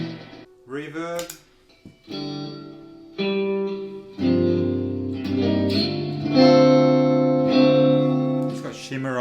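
Electric guitar through a reverb pedal with shimmer on a pedalboard, a series of strummed chords that swell and sustain with a bright, washy tail.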